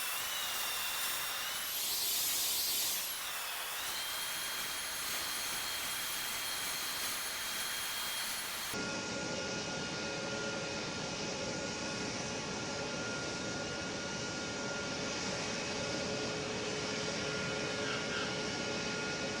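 A jet airliner lands in the Roblox flight game PTFS with a steady roaring, hissing engine drone that runs unbroken throughout, its tone shifting partway through.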